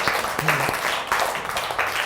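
A group of schoolchildren clapping in a classroom, a brief burst of close applause that runs throughout.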